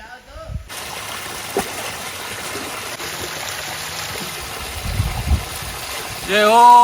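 Narmada river water flows steadily out of a pool in a forest, a continuous rushing stream heard close, with a voice briefly speaking at the end.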